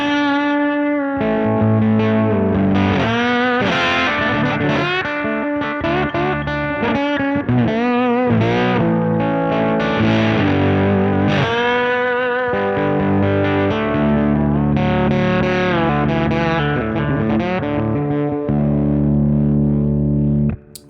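A lap steel guitar with a mahogany body and maple neck, tuned to open D and played through a Novak neck pickup, sounds continuous sliding, sustained notes and chords with distortion, loud and close throughout.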